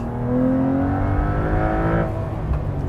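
A Porsche 911 Carrera T with manual gearbox and auto rev-match revs up in a smooth rising engine note, holds near the top, then drops off sharply, loud and close with no talk over it.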